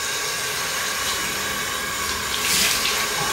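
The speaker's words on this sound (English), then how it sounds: "I now rinse it with water" Water from a tap runs steadily into a sink while someone rinses their face during a nighttime skincare routine, a continuous close, even hiss with slight splashing swells.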